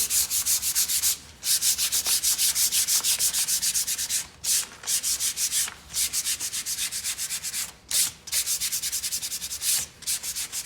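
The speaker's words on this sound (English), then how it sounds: "So you can just kind of even it out by sanding it." Rapid back-and-forth strokes of sandpaper rasp on wood, close and steady, broken by brief pauses every second or two.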